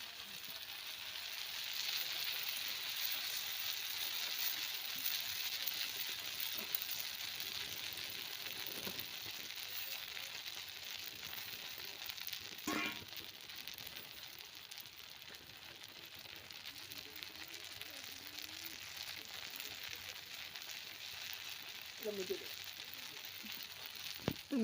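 Shampoo poured into boiling oil gives a steady, faint crackling sizzle that hisses on evenly, with a few small pops and no talking over it.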